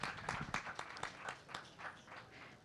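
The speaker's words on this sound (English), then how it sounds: "I'll give her a round of applause." A lecture audience applauds a panelist being welcomed onstage, a steady dense wash of many hands clapping at moderate volume throughout, with no pause.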